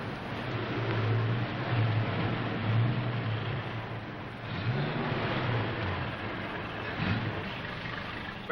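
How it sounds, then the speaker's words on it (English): A truck engine rumbles steadily with a broad noisy roar and surges in revving as the vehicle drives off, recorded in an old 1940 serial soundtrack with little or no talk. "You're not going any place with that Acme truck."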